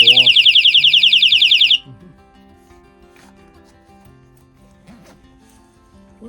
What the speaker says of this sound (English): I use a little motion detection alarm, which is quite handy